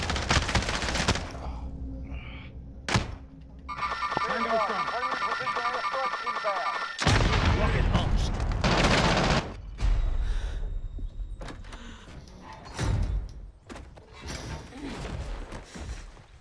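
Gunfire in a battle royale video game: bursts of shots and clattering fire cut through a dense, busy mix of game noise, with ringing tones in the middle stretch and the action loud throughout.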